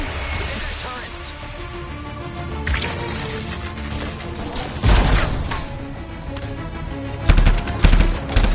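Enemy turrets fire in the video game Anthem, a dense run of rapid gunfire bursts and crashing impacts with louder blasts near the end, mixed with game effects and voices.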